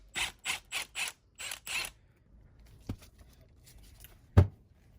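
Several quick, crisp ratcheting clicks from a 6 mm Allen key loosening a screw on a Marlin Crawler dual transfer case, close and fairly loud, followed by quieter small metallic taps and one sharp knock.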